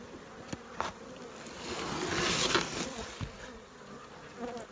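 Honey bees buzz inside a heavy hive box of a colony stocked for winter, a steady dense hum that swells louder in the middle and then eases, with no voices.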